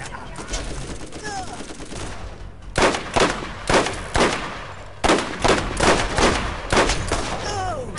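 Rapid bursts of shotgun fire in the video game Borderlands, loud clustered blasts coming in quick volleys with brief gaps between, close and punchy, with a voice talking over part of it.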